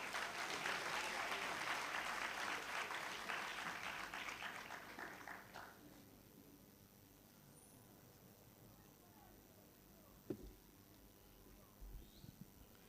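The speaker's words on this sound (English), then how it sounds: "Shall we give him another applause?" Audience at a university congregation ceremony applauds the guest speaker, a broad wash of clapping that fades out around the midpoint, leaving a quiet hall with a couple of faint thumps afterward.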